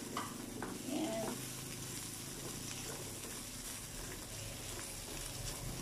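Squid balls and kikiam sauté in a pan for pansit guisado, with a low, steady sizzle and faint stirring scrapes.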